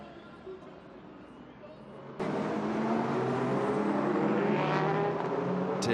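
Race cars on the formation lap at the 6 Hours of Mexico, led by an Audi R8, are first a faint distant drone, then roar in suddenly and loudly with engine tones rising as they pass close by.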